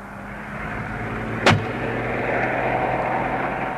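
Road traffic passing close by, a continuous broad rumble and whoosh of a car going past, with a sharp brief clack in the middle over the steady roar.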